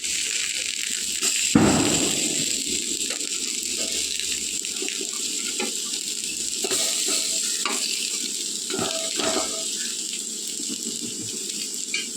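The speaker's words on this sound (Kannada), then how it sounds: "ಬೇಯಿಸ್ಕೊಳ್ಬೇಕು, ಫ್ರೈ ಮಾಡ್ಕೊಳ್ಬೇಕು. ಇವಾಗ ತಿರುಗಿಸಿ ಹಾಕುವ." Eggplant slices frying in a pan over a slow flame give a steady, close sizzle throughout. A brief clatter comes as they are turned, and light scrapes and ticks sound now and then.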